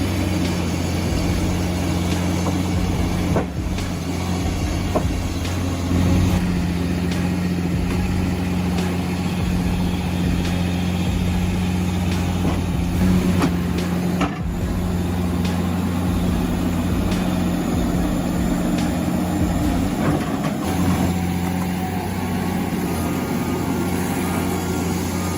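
A homemade tractor hauling 8 tons of acacia wood on a muddy road runs with a steady, heavy low engine drone that stays loud and continuous throughout, with occasional clanks and no talking.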